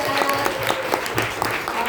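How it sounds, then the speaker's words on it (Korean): A crowd applauds at a Korean team gathering, a short burst of brisk clapping mixed with chatter and voices from the room. "감사의 박수 보내드립니다"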